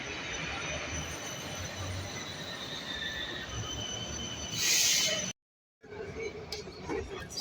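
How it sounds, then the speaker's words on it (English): Canberra light rail tram wheels give a sustained high squeal over a constant rumbling rail hum, rising to a brief sharper screech before a short cut, then the rolling noise resumes. "Canberra tram, I should say. Light rail tram"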